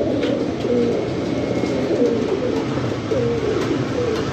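A flying pigeon coos in repeated soft, throaty phrases, close and steady against a low background hum.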